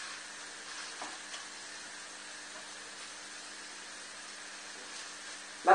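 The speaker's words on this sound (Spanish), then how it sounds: "vamos a echar el tofu. Y lo vamos a dorar" Tofu fries in a wok with a soft, steady sizzle and faint stirring noises, quiet and continuous, with a brief louder clatter at the very end.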